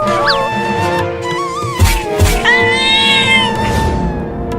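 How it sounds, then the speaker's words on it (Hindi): A cat meows repeatedly beside railway tracks, its leg caught in the rails, with loud, rising and falling cries mixed with thumps and other busy outdoor noise. "अब बिल्ली को दम लगा के खींच चिंकिया।"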